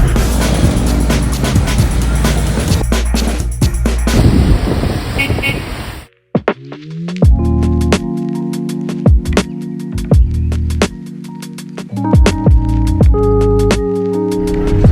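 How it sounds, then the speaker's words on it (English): Heavy road traffic in rainy Lahore, with dense engine rumble, repeated car horns honking and a loud roar of many vehicles close by, continuous for the whole stretch. "There's about 50 vehicles competing for not a lot of space."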